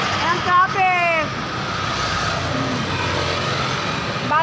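Road traffic with cars passing on a street, a steady engine rush close by, with a horn-like tonal burst near the start and another at the end; a person speaks briefly early on.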